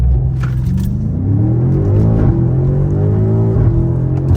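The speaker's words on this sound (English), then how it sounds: "I'm gonna get one more launch right here and then go ahead and end the video off." A BMW M5 Competition launches hard from a brake-boosted start, its loud, close engine climbing steadily in pitch through two quick gear changes while pulling to 60 mph.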